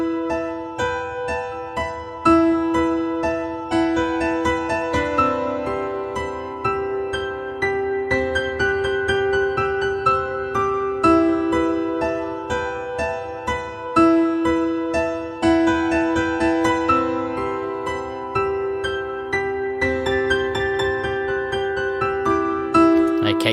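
Arturia Augmented Grand Piano playing its Moderner acoustic grand preset: a flowing melody of sustained, ringing notes that rise and fall over steady chords, clear and even for over twenty seconds with no talking.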